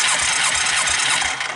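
Suzuki King Quad 300 4x4 ATV engine cranking and catching after being choked, a steady loud mechanical roar with a dense rattling buzz that holds for over a second before cutting off abruptly.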